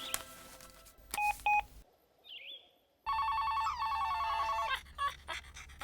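An electronic phone ringtone with beeping tones and a short pause, followed by a busier melodic ringing pattern of repeated tones. Nobody speaks.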